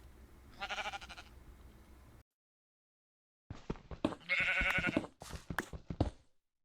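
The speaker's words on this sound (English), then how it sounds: "and the sheep are happy." Two separate bleats from sheep in Minecraft, a short one and then a longer wavering call, with a silent gap and soft clicking steps between.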